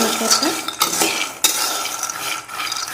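Almonds roasting in a pan on a low flame, stirred steadily with a utensil, giving continuous close rattling and scraping with a few sharper clinks, no talk.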